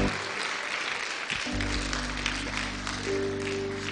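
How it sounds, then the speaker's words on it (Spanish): A church congregation claps in applause for a pastor's sister on her birthday, a dense, steady wash of many hands with a sustained low hum or organ tone underneath, filling the whole stretch without speech. "Denle un aplauso al Señor por ella."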